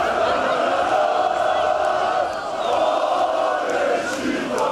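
Beşiktaş football fans celebrate a derby win over Galatasaray at Dolmabahçe, a dense crowd roar of chanting and cheering that holds steady and loud throughout with no single voice standing out.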